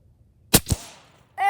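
Air Venturi Avenger air rifle fired at a target, heard as a single sharp crack followed by a second impact-like snap, with a brief decaying tail and a short tonal sound at the end.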